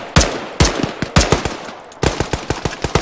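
Sustained automatic gunfire in the military shooter Arma 3, loud close bursts of rapid rhythmic shots repeating several times with brief pauses between volleys.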